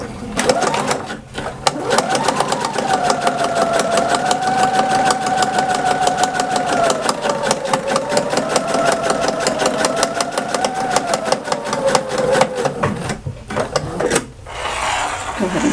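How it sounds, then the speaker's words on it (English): A sewing machine stitches ribbon for a pacifier clip, running steadily and loudly for about eleven seconds with a brief pause near the start as the needle pivots, then stopping near the end. "I'm going to turn and pivot, and I'm going to stitch down the entire length."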